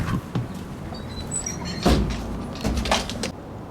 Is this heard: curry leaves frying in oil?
no